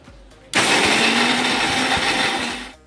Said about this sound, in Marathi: आपण आता हे मिक्सरमधून वाटून घेऊया